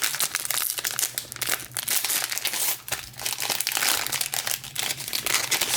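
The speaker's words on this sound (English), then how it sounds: "I'm gonna go ahead and rip into these right now." A 2021 Bowman baseball trading card hanger pack being torn open by hand, with close, busy crinkling and crumpling of foil wrapper in irregular bursts throughout.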